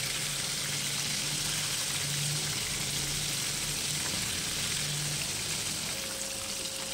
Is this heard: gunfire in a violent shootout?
no